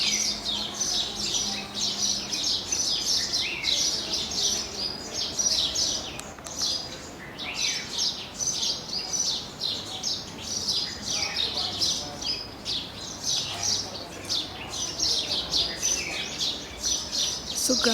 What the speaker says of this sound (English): Just listen to this, all the birds chirping.